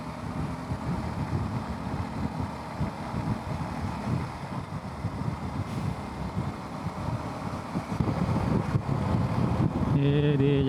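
Strong wind buffets the microphone on a Kawasaki KLX 230S rally motorcycle riding a concrete ring road near Karawang, a steady loud rumbling roar that grows stronger toward the end, mixed with engine noise.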